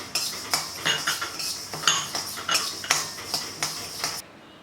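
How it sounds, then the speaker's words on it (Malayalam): Fenugreek seeds roasting in a kadai over a medium flame, stirred with a metal spoon that gives a steady run of close, bright scraping clinks against the pan, about two per second. "ഇനി ചീനച്ചട്ടിയിലേക്ക് നമുക്ക് ഉലുവ ഇട്ട് കൊടുക്കാം. ഉലുവയും ഒരു മീഡിയം ഫ്ലെയിമിൽ വെച്ച് നന്നായിട്ട് വറുത്തെടുക്കണം."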